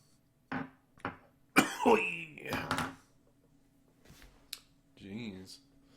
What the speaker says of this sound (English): I didn't really intend to start with the coughing